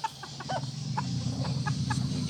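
Red junglefowl with a snoring respiratory illness cluck in short, separate calls a few times a second over a low background hum, fairly faint and with no talking.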